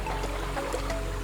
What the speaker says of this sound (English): So this water is directly from the waterfall. Wow. This is the stream.